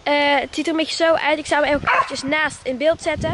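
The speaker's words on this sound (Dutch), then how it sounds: "Sorry voor mijn hond die blaft." A dog barks and yips in short bursts close by, mixed in with a person talking continuously over it.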